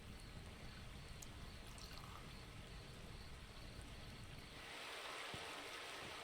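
Water pouring into a container in the survival game The Last Plague: Blight, a steady splashing stream that shifts to a brighter, thinner trickle near the end, heard alone.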